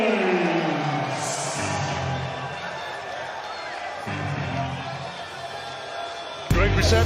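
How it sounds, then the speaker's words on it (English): A large Wembley crowd roars steadily through boxer Joe Joyce's ring entrance, a broad sustained cheer filling the arena, with an announcer talking over it and a sharp thump near the end. "Great reception from the Wembley crowd."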